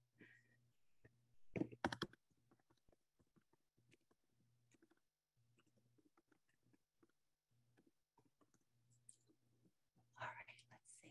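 Soft, scattered keystrokes on a computer keyboard during an online maths webinar, faint taps in irregular bursts with quiet whispery voices over a low hum.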